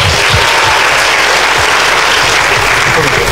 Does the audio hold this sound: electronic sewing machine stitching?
no